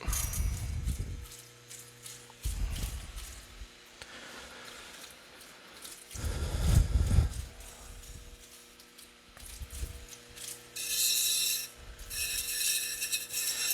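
Opal being smoothed against a 360 grit grinding wheel, faint intermittent rubbing and rasping bursts in short irregular strokes separated by quieter gaps, with a steady low mechanical hum beneath.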